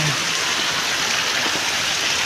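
Steady rushing rainwater flows continuously along a village road during a heavy downpour, with a broad hiss and no speech.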